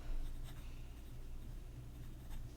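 A steel-nib fountain pen scratches across good-quality paper in soft, quiet strokes, a continuous light scratching with a few brief louder touches, heard alone and close.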